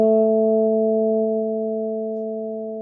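Synthesized sine-wave oscillators stacked in a harmonic series sound together as a single steady tone, which fades slowly and evenly for about three seconds with nothing else heard.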